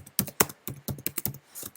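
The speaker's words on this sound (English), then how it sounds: "Typing away on a keyboard" Quick, uneven keystrokes clatter on an old Mac laptop keyboard, close and fairly quiet, with no voices.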